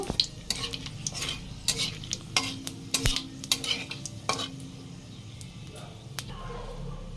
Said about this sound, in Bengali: লবঙ্গ দারচিনি দিয়ে দিয়ে দু এক সেকেন্ড ভালো করে নাড়িয়ে দেব